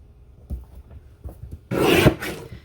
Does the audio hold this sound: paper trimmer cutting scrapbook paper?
yes